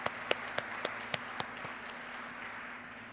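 Sparse, faint clapping from a lecture audience. A handful of distinct claps land in the first second and a half, then fade into quiet room hum.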